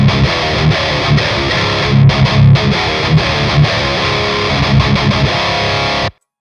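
Overdriven electric guitar runs through a Kemper Stage Mark II loaded with a Fireball 25 Lead profile, playing a dense, loud, sustained riff alone before cutting off abruptly.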